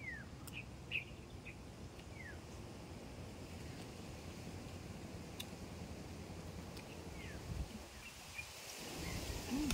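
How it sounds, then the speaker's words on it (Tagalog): A steady broadband rush of wind fills the scene outdoors, with scattered faint bird chirps and a gust swelling near the end. "Ang lakas ng hangin"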